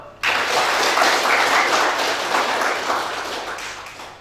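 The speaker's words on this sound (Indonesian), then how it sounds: "Boleh tepuk tangan kok." Audience applause at an advocates' swearing-in ceremony at a district court in Kupang, a sudden loud onset of many hands clapping that holds steady for several seconds before easing slightly.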